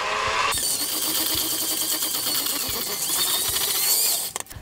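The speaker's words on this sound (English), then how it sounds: "I don't know those professional mixers, but I do have electric whisks" Electric hand whisks creaming sugar and butter, a loud steady motor whine with rhythmic beaters churning through the mixture, starting abruptly and cutting off near the end.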